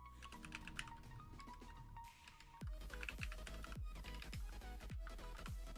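Typing on a computer keyboard while coding an expense tracker app, a steady stream of clicky keystrokes with a few louder, sharper key hits mixed in, close and continuous throughout.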